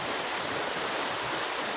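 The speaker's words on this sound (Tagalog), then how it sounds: "Dito naman tayo sa ilog mga tandar" River water rushes steadily in a dense, close broadband wash with no pauses, after heavy rain, loud and continuous with no voices over it.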